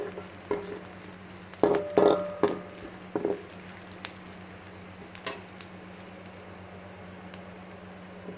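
Shredded cabbage sizzles and is stirred in a hot pan for veg fried rice, a soft steady frying hiss with a few scraping stirs near the start.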